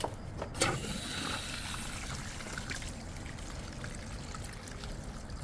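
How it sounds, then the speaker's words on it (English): Water runs steadily from a garden hose fitted with a Life water filter, a continuous hissing rush after a brief clunk at the start. "So the water's flowing right now, if you guys can see it. Flowing on the water hose right now"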